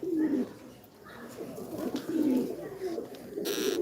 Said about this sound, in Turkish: Şimdi kuşları izleyin.